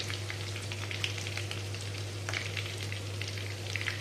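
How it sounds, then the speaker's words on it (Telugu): Cumin seeds, ginger and onion frying in a pan, a continuous close crackling sizzle with scattered pops and a low steady hum underneath, no voices. "దీన్ని బాగా వేయించుకుందాం ఉల్లి వాసన పోయే వరకు వేయించుకుందాం"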